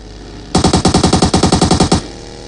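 Automatic gunfire in the video game PUBG, a rapid burst of about fifteen loud shots lasting roughly a second and a half, close and alone over quiet background.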